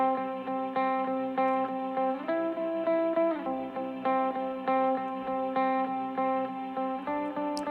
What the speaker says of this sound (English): it's a guitar part that then gets layered with a second guitar part